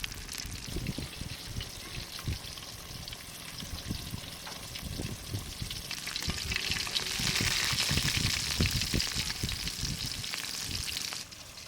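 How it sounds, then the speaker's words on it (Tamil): Battered seer fish, KFC-style, deep fries in oil in a pan, a dense continuous sizzle with crackling pops that grows louder and fuller midway, then cuts off abruptly at the end. "இப்போ நம்ம எண்ணெயை ஊற்றிட்டு தாச்சியில் போட்டு பொறிக்க போகிறோம்"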